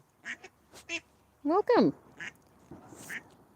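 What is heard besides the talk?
ducks quacking, mother ducks with ducklings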